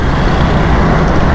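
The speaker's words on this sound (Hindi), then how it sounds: "ट्रैफिक बहुत ज़्यादा जाम है" Jammed road traffic at Civic Center in Karachi, a loud, dense, continuous roar of idling and creeping cars, buses and trucks close by, with no talking.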